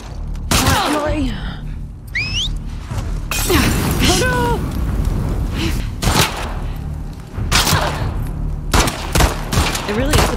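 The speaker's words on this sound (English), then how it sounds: "It really is a pellet gun, you're right." A weak pellet-gun style rifle firing in the video game The Last of Us Part 2, several sharp shots and thuds spread across the clip amid combat noise, with voices shouting and talking over it.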